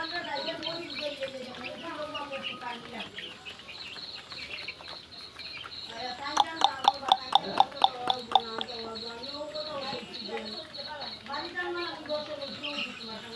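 Eleven-day-old chicks of various breeds, about three hundred at a sales point, cheep constantly in a dense, high-pitched chorus, with a brief burst of sharper rhythmic peeps midway and someone talking throughout.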